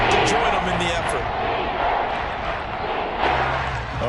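Stadium crowd roars steadily through the whole stretch in a Madden 23 American football game, a dense, loud wall of cheering that swells again near the end, with a commentator talking over it.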